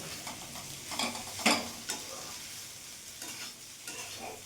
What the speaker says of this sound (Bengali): আর একবার নাড়াচাড়া করে নেব।